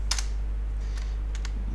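A computer keyboard typed on in a few short bursts of clicks over a steady low hum, fairly close, with no voice present.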